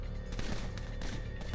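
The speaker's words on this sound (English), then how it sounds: "The sudden burst of gunfire jolts Iglika." Gunfire erupts in the video game Reverse: 1999, a dense, continuous barrage of rapid shots over rumbling battle noise, loud and close throughout with no pause.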